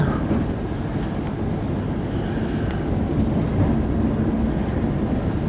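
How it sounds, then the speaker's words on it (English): A Manchester Metrolink tram to Eccles passes alongside a train on the arches coming into Manchester, heard as a steady loud rumble of rail running with wind buffeting throughout. "Tram to Eccles just went past."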